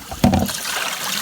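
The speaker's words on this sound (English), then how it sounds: "I'm just rinsing my potatoes off just like so." Running water splashes and trickles over potatoes as they are rinsed in a kitchen, beginning with a brief louder splash and then a steady close-up wash with no one talking.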